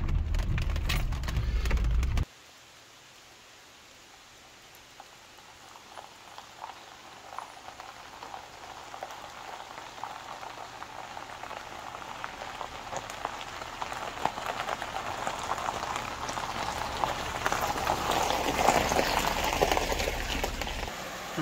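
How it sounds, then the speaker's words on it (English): A small waterfall in the Great Smoky Mountains gives a continuous soft rushing hiss, fairly faint and steady, following a brief louder rumble at the very start. "Beautiful little waterfall here."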